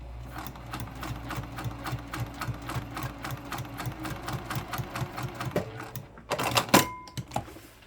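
A sewing machine stitches a bag panel in fast, steady rhythmic bursts of needle strokes, close and fairly loud, with a brief pause and some handling clatter near the end.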